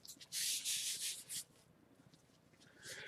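Hands run over a sealed, 16-ounce thick top grain veg tan leather belt, making a few loud, close, hissing rubbing strokes followed by quieter, lighter brushing.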